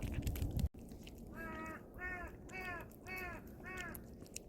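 A crow caws five times in a steady, evenly spaced series, each call harsh and fairly close, over a low outdoor background hum with a brief thump at the start.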